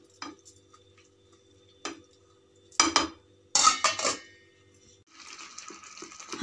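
A covered pot is set down on a gas stove, with separate metallic clanks and knocks of cookware against the burner grate in a quiet kitchen, followed by a soft steady hiss.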